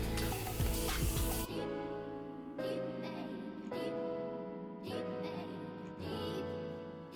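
A brief, loud hiss of makeup setting spray bursts out at the start, followed by softer rustling and handling noises with faint background hum.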